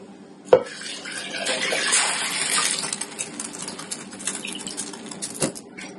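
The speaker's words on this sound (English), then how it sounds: "I'm adding 4 cups of water." Water pours steadily into a cooking pot for black-eyed peas and collards, a splashy, hissing rush, opening with a sharp clunk and ending with another knock nearby.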